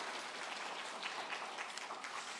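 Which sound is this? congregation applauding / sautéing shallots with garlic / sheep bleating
congregation applauding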